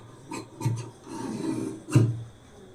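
Scissors cut through blouse lining fabric in a few separate rasping snips, close and moderately loud, with short gaps between cuts.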